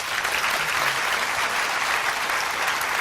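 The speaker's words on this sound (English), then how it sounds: "Have a final huge round of applause for Mike and Tom." A lecture audience at a particle physics talk breaks into a sustained, even roar of applause, dense and continuous without pause from start to finish.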